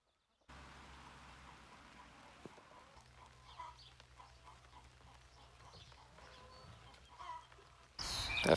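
Hens on deep, fresh pasture beside a compost system give soft, scattered clucks over a low steady background hum, with a sudden louder rustle near the end.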